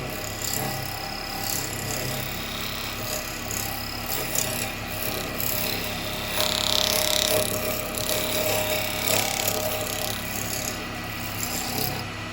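A woodturning cutter shaving a yew bowl on a lathe makes a continuous close rasping, rubbing cut with a steady hum underneath, swelling briefly louder midway, with no talking.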